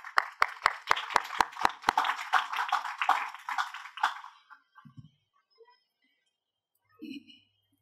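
A crowd at a gathering claps in welcome, opening with a few sharp, evenly spaced claps that swell into a dense round of applause, then fading to scattered faint taps and quiet stirrings.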